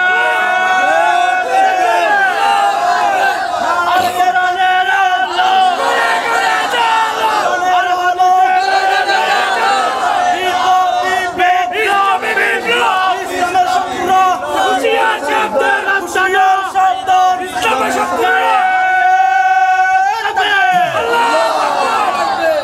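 A large crowd at an Islamic religious rally in Chittagong, Bangladesh, roars a slogan in unison, a loud sustained wall of massed voices with rising and falling shouts that continues without a break.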